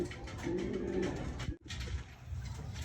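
Pigeons cooing nearby in a breeding loft, soft low repeated coos with a faint murmur of background noise.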